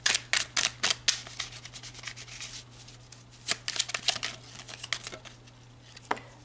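Tarot cards are shuffled close up in a run of quick, crisp riffling snaps, then a pause and another flurry of softer flicks and slides, with a low steady hum underneath.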